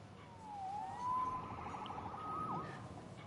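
A police siren in the video game Marvel's Spider-Man wails in rising and falling sweeps, fairly faint and distant, over a low background rumble.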